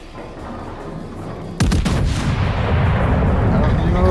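Warship main battery guns firing in the naval combat game World of Warships: a sudden loud, deep boom cuts in over steady engine and ambient rumble, then rolls on as a heavy sustained roar.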